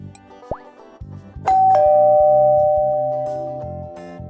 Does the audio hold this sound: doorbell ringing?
yes